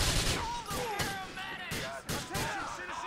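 Police gunfire in Grand Theft Auto 4, several heavy shots and bursts in quick succession, mixed with overlapping game effects and people talking.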